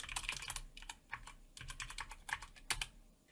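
Quiet clicking of keys on a computer keyboard, in bursts of rapid taps with brief pauses, close up and with no talking.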